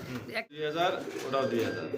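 Pigeons for sale coo softly at a bird market, low burbling calls mixed in with nearby talking.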